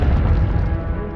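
A fire spell cast in Hogwarts Legacy, a loud whooshing, crackling burst of flame that roars steadily through the moment with a dense low rumble.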